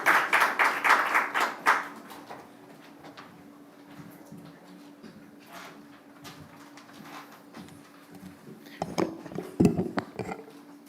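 A short burst of audience applause for a speaker at a bank branch commissioning ceremony in Manchester fades within two seconds, followed by a quiet room with faint shuffling and a few clattering knocks near the end.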